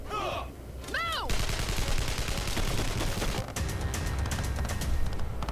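Sustained automatic gunfire in an anime firefight from Jormungand, loud and continuous, with short pauses and one brief break near the middle, preceded by a shouted voice.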